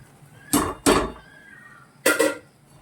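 Shengole stuffing with homemade black masala, salt, turmeric and garam masala is sautéed in a pan over low gas, with three sharp, close metal clanks and scrapes of the spatula against the pan.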